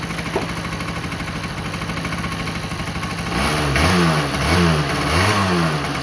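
A Honda Spree NC50 scooter just after carburetor cleaning and tuning, its small engine idling with a buzzy putter, then revving up and down in several loud rising and falling surges, close by.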